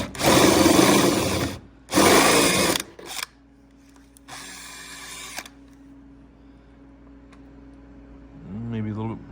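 A power drill with a step bit bores into the metal body of a stick-shift Ford Crown Victoria in three loud, whining bursts separated by pauses, followed by quieter handling noise and a brief voice at the end.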